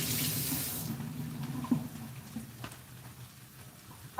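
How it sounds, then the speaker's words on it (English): Tap water runs steadily into a sink while hands are rinsed under it, a close hiss of splashing that eases off toward the end. "Allow me just a second to wash off my hands here a little bit."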